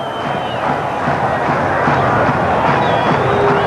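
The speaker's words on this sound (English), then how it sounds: "So at last this Olympic Park crowd has come to life." Stadium crowd at Olympic Park during a 1985 Australia v Israel football match, a broad steady roar of cheering and hubbub that swells slightly toward the end, with no clear individual voices.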